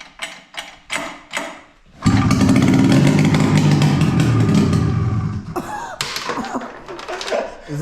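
A Polaris Indy snowmobile engine without its muffler roars loud and continuous for several seconds, preceded by a few short pulling bursts and followed by sputtering bursts, with voices in between.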